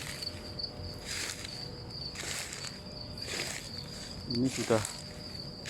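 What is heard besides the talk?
crickets chirping at 6 in the morning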